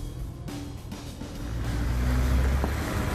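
A car crosses a railway level crossing, its engine rising steadily from a low rumble to a louder, closer drone over a few seconds, with no talk.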